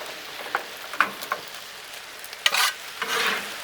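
Orange chicken, broccoli and noodles being stirred together on a Blackstone griddle with the heat off, with scattered scraping strokes of a spatula over a soft sizzle, close and without talk.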